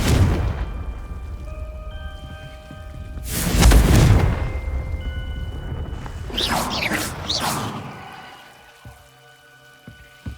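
In the Hogwarts Legacy video game, a Confringo fire spell bursts with a loud, booming explosion in the middle of the clip. Lighter magical whooshes and crackles follow, then fade.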